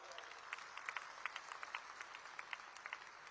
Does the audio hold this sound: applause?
yes